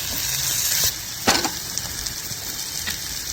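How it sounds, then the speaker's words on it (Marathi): Ginger, garlic and chili paste with a pinch of garam masala frying in a pan, a steady close sizzle with a sharper clatter partway through, as if from stirring. "आता आले लसूण मिरसांगे पेस्ट घालता थोडे गरम मसाला पिठी घालता आणि ते भाजून घेता"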